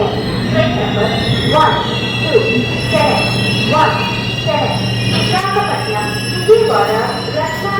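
A WAG-9 electric locomotive brings the SMVT-VSKP Superfast Express into VSKP railway station, its wheels squealing in repeated bursts over a steady rumble as station voices and announcements carry in the background.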